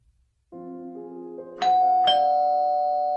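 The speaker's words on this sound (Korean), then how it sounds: "누군가 초인종을 눌렀다." A two-tone electronic doorbell chime rings clearly, its second note ringing out and sustaining to the end.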